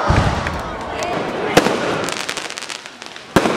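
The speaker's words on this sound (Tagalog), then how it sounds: "hugyaw ang tanan sa gipahigayong fireworks display." A Chinese New Year fireworks display crackles at midnight in the Philippines. Dense, continuous popping and fizzing is broken by a few sharp, loud bangs, with faint crowd noise underneath.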